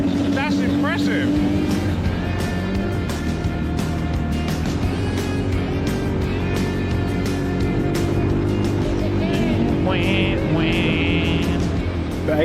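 Small 8 horsepower mini jeep engine straining up a desert hill, a steady buzzing drone close by that holds on under people talking throughout.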